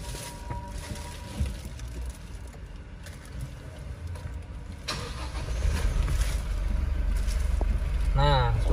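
A 2024 Toyota Hilux engine is heard starting and settling into a steady idle. A low rumble grows louder in the second half, with some background noise and a brief chirp near the end.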